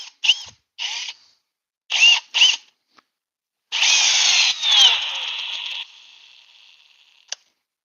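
A Milwaukee cordless drill on a 2 amp-hour battery whirs in short bursts, then runs for a couple of seconds before winding down, loud and close, with silence between bursts.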